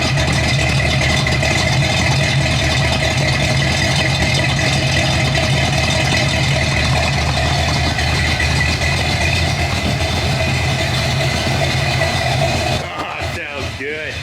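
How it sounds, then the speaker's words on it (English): A 1979 Jeep Cherokee engine runs with a swapped-in carburetor, giving a steady, loud, close idle rumble that continues unbroken until it dips slightly near the end. "let's see if we can get it idling with this other carb"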